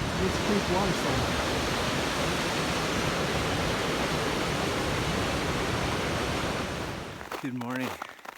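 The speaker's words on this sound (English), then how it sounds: "It's Creek waterfall." Rushing water from a creek waterfall in the snowy High Sierra, a steady loud broadband roar filling the scene before it fades briefly near the end.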